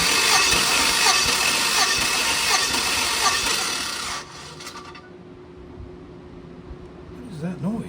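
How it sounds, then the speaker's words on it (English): A 2006 Chevrolet Silverado engine rattles and clunks near the starter for about four seconds, loud and close with a dense rasping texture, then drops to a low idle hum with faint knocks. "This rattling noise back here is what's got me concerned now."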